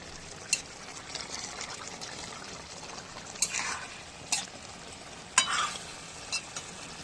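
Vola fish curry is stir-fried in a pan: a low, even sizzle runs under a handful of sharp, separate spatula scrapes and knocks against the metal.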